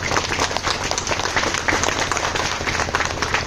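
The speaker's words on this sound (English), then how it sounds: "another round of applause for those performers over here." Steady, dense applause from a crowd at a nursing institute event honoring performers, loud and continuous throughout with no pauses.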